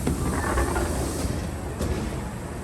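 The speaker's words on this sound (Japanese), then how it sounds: "列車はほどなくして長田に到着。" Kintetsu train pulling into Nagata station in Osaka, a steady broadband rumble of wheels and motors heard from on board, loud and continuous with a faint clunk near the end.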